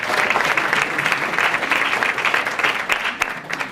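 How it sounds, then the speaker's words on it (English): Loud, sustained applause from guests at a volunteer recognition dinner, a thick continuous wash of clapping for nearly four seconds without pause. "let's just give a round of applause for 90 plus for volunteering"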